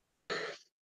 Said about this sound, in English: I don't want to be interrupted by cough every 5 seconds.